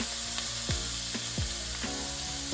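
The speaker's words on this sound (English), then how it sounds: "I like my oil really hot so it kind of burns the seasoning onto the shrimp" Shrimp searing in very hot oil in a steaming skillet, a close, continuous sizzle with a few sharp scrapes or taps of a utensil against the pan, and no voices.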